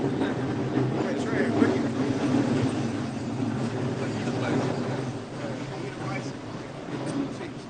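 A train passes near an outdoor live camp in New Orleans, a steady low rumble and rattle of rail cars that holds for several seconds and eases slightly toward the end, with faint voices in the background.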